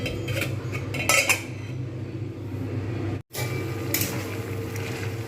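A metal lid set onto a cooking pot over medium heat, heard as a few clinks and scrapes against a rumbling background, then a brief silence before the low hum resumes.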